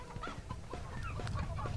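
Game bird clucking in Earthworm Jim 3D on the Nintendo 64, a short run of close, steady clucks over a busy background of game music and effects, with no talking.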